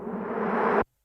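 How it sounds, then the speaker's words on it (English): Reverse uplifter sample from the Vengeance library, pitched down 8 semitones, for acid techno: a dense, noisy swell that builds steadily for under a second and then cuts off abruptly into silence. "A reverse uplifter, also from Vengeance, pitch down 8 semitones, sounds like this."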